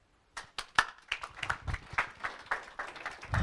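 Audience applause at a health tech startup venture capital panel: a room of hands clapping in a steady patter that swells and holds, fairly close, with no talk over it.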